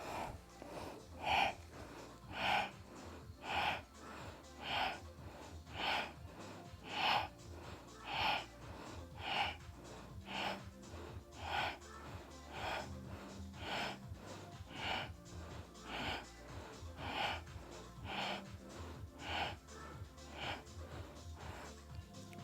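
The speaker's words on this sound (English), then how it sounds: "Breathe into your belly. Nice big breath." Deep rhythmic breaths during an ab workout, with regular inhales and exhales about once a second that are fairly close and clear, with no talking.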